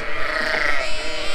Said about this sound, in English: Isn't it just a great sight to see all the ewes and lambs out of the grass?